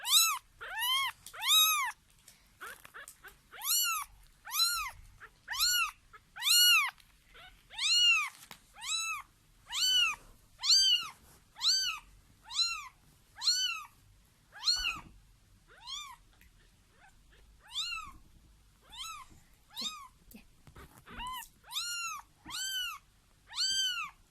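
A kitten meows over and over, high-pitched and close, in a steady string of short cries with brief pauses between them.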